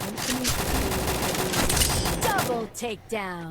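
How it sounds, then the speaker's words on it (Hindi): Rapid gunfire in a PUBG-style mobile shooter game, heard as a loud continuous burst of shots for most of the clip, with a voice coming in at the end. "वो गोलियाँ चलाता है"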